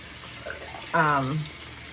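Water runs from a tap at a sink while something is rinsed off, a short close splashing burst that starts suddenly and lasts about half a second before easing off.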